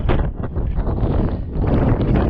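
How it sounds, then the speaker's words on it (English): Strong wind buffets the microphone in a constant low roar and rumble, loud and close, with no voices. "I couldn't film it because it was too windy."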